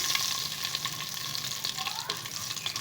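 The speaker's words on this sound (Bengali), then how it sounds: "তার মধ্যে আস্ত গরম মশলা তেজপাতা ফোড়ন দিলাম" Whole garam masala and bay leaves sizzling in hot oil for Bengali rui muro ghonto, a dense continuous crackling sizzle close up with scattered pops.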